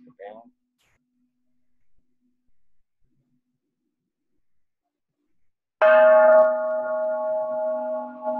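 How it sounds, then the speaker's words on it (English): A single bell rung during a Soto Zen service: after near silence with a few faint sounds, one clear strike rings out, loud and close, its tone sustaining and slowly fading. "This is how we initiate the 3 rounds of the bell."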